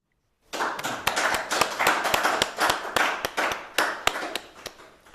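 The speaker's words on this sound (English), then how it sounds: "Let's have another round of applause for Antoinette" Applause from an audience at a poetry and spoken-word night, a few seconds of clapping that starts suddenly, with distinct individual claps mixed into the wash of a small crowd.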